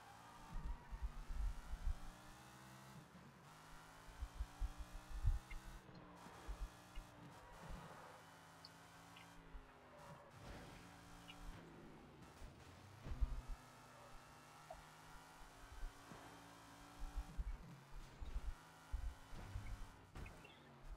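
A car driving in the Sleeping Dogs video game, its engine droning and shifting pitch in repeated rising sweeps as it speeds along, with game music and ambience layered underneath.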